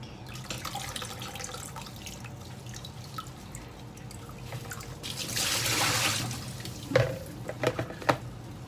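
Water from a pot of cooked pasta pours off into a sink in a home kitchen, a steady trickle that swells into a splashing gush, then ends in a few drips and clinks, with no voices.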